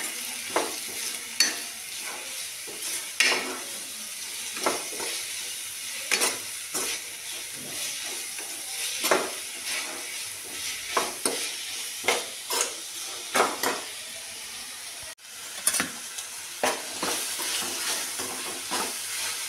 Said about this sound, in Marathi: आणि हे परतून घ्यायचं आहे